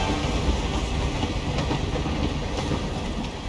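Train cars rolling along the track in the Hitman III video game, set in the Carpathian Mountains: a steady low rumble with a faint clickety-clack of the wheels, heard alone.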